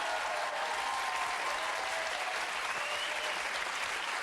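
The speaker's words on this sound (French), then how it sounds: "Des applaudissements pour nos invités" A television studio audience applauds guests on a French talk show: dense, steady clapping from many hands fills the whole stretch evenly, moderately loud and close.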